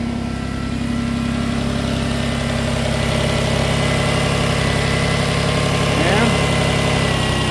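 A Nissan Murano idles steadily and close, with a constant low engine hum and a faint vibrating drone that stays even for several seconds, and someone speaks briefly over it.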